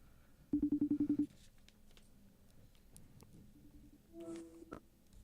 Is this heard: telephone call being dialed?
yes